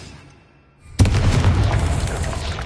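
A Confringo blasting curse bursts in the wizarding video game Hogwarts Legacy. After a quiet moment there is one sudden loud explosion, and its rumbling, crackling tail carries on to the end.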